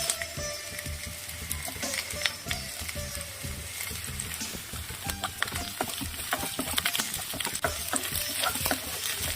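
Onions and green chillies sauté in a pan over a medium flame, giving a dense continuous sizzle with steady crackles and frequent stirring clicks, loud and close throughout.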